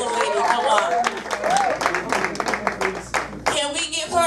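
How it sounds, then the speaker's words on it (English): An audience at a live poetry night gives a poet a short burst of clapping that runs under a host's voice and crowd chatter. "Let me give her a round of applause."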